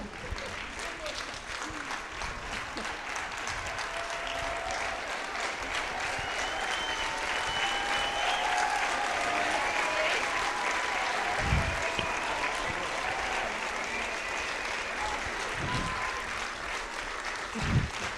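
Sustained audience applause at a $100K for 100 celebration, a steady wash of many hands clapping for the whole stretch, with a voice speaking faintly over it at times.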